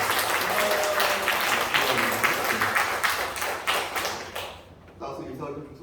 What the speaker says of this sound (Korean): 우리 박수 좀 쳐주시겠어요